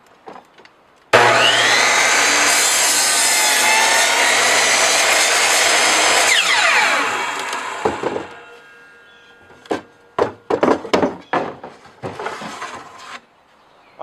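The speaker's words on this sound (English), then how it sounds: "we're going to take this to the miter saw," A miter saw cuts wooden boards for a garden bed with one loud, sustained, whining cut that lasts several seconds. A string of sharp clunks and knocks follows as the boards are handled.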